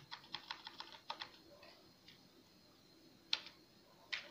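Quiet clicking of a computer keyboard while entering text in Excel, a quick run of keystrokes followed by a pause and a couple of isolated taps.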